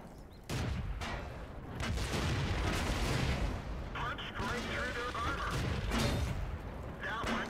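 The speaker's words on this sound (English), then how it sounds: "somebody's shooting at me" Tank gunfire in the video game World of Tanks, heavy booming shots and rumbling battle noise under someone talking throughout.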